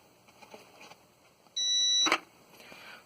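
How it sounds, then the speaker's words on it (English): A steady electronic low battery voltage alarm tone sounds for about half a second, loud and close, followed by a sharp click, with quiet rustling before and after. "That's a low battery voltage alarm."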